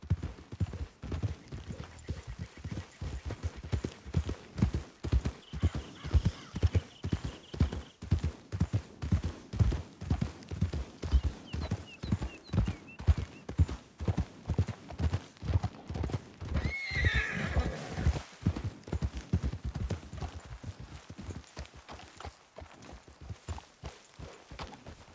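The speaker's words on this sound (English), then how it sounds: "Okay, let's dismount here. Best leave the horses back a bit." Horses trot over ground in the Red Dead Redemption 2 video game, a long run of steady rhythmic hoof clops that slows near the end, with a whinny partway through and no talk.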